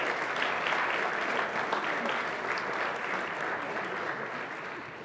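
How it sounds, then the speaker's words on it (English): An audience at a National Honor Society induction ceremony gives a sustained, loud round of applause that fills the room evenly from start to finish. "I ask you all to take a moment and give your parents a warm round of applause."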